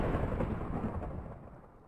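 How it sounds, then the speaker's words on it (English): Thunder rumbling in Minecraft Bedrock Edition, a deep heavy roll that starts loud and slowly fades over about two seconds, heard alone. "We all know how loud thundering can be."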